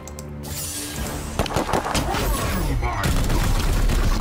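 Gunfire and crashing impacts from a battle in Chaos Gate: Daemonhunters, a dense run of shots and bangs with a burst of sharp hits midway, all under a continuous layer of game noise.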